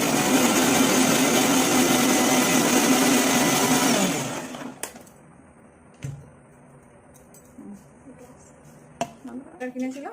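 A kitchen mixer grinder runs loud and steady for about four seconds while grinding ingredients, then cuts off, leaving quiet room sounds with a few small knocks.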